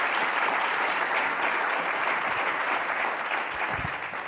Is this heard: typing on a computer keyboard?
no